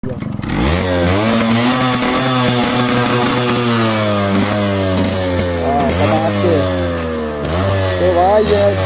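A Yamaha RX100 motorcycle engine, fitted with a dB killer, runs loud and close after a kick start, its raspy tone rising and falling with several throttle blips.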